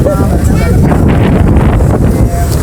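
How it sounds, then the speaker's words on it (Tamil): Strong wind buffets the microphone with a loud, continuous roar at an open, sandy Shiva temple site, and a voice speaks under the gusts. "இடம் காற்று வந்து நன்றாக அடிக்கிறது"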